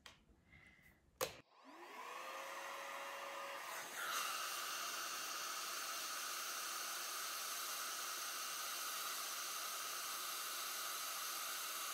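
A hair dryer heat-styling a wig clicks on after a couple of brief knocks and settles into a steady, close airy whoosh, stepping up to a louder setting a few seconds in and running continuously.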